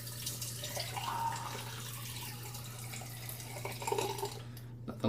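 Cold water running from a bathroom tap into a sink after a wet shave, a steady soft splashing stream with a low hum beneath, moderately quiet and close, ending with a brief clatter.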